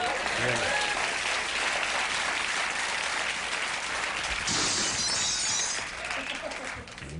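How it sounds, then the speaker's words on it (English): Glass panes shattering with a loud, sustained crash and tinkle of breaking glass, immediately swamped by roaring studio audience applause and cheering. "the sonic waves set up by the card actually shattered several panes"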